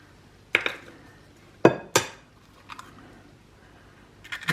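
Two eggs are knocked against a bowl and added to a creamed baking mixture: a few sharp, close cracks and clinks with quiet gaps between them.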